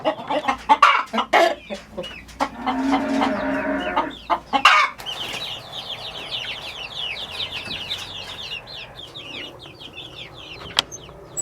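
Chickens in a flock of up to 100 around a movable coop cluck and squawk close by, with busy bursts of calls early on and then a steady run of chirpy clucking, with no talk.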